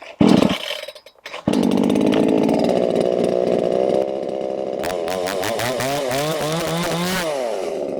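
A DWT BKS45-18 B petrol chainsaw starts after a pull or two and runs close and loud, holding a steady high idle before revving up and down in repeated throttle blips.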